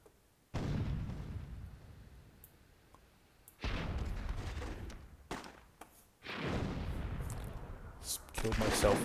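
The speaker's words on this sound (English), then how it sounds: "Killed myself with a cannon" Cannon fire in the fantasy strategy game Myth II: Soulblighter, heard as three or four sharp blasts spread out in time, each with a rumbling decay, with faint talk in the background.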